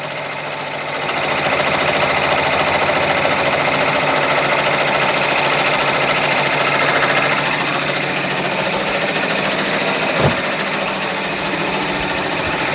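An embroidery machine stitches a design onto a sweatshirt, giving a loud, continuous, fast mechanical whir and needle chatter that holds steady throughout, close by, with a faint thump near the end.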